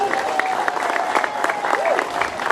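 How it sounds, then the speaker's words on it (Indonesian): Village disaster-response drill audience clapping after a chant, a dense steady round of applause with some voices and a whistle-like tone mixed in, fairly near. "Tepuk tangan."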